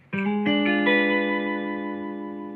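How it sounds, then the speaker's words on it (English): One electric guitar diminished chord, played on the upper strings with reverb and chorus. It is picked as a quick roll of notes and then left to ring and fade, close and alone. "That's a diminished chord."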